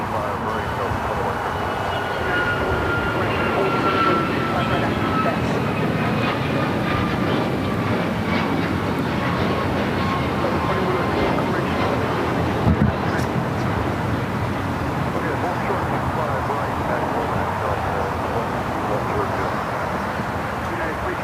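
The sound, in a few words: United Airlines jet airliner taking off at LAX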